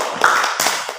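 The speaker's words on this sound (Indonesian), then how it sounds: "Kita berikan tepuk tangan untuk kelompok 2." A small classroom group gives brief applause to a student presentation group: a few close, loud hand claps over about a second, with uneven gaps between them.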